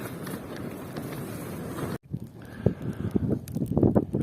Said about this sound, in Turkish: Çok sert bir rüzgar var.